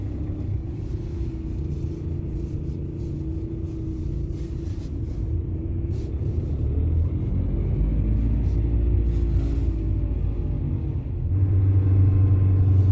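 A car drives along a Dutch highway toward Eindhoven in winter, heard from inside as a steady low rumble of engine and road noise that swells slightly toward the end, with no talk.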